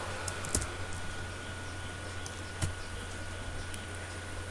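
A few sparse keystrokes on a computer keyboard tap out, light clicks spaced apart over a low steady hum in a quiet room.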